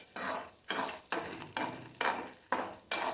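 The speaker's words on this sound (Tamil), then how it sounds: "கொஞ்சம் சிம்மில் வச்சு வறுத்துக்கோங்க" Dal roasts in a pan on low flame while a spoon scrapes and stirs it in regular strokes, about seven rhythmic sweeps, close and clear.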